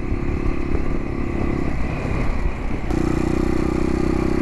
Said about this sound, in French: j'ai cru que c'est ma moto qui faisait du bruit bizarre, en fait non c'est lui.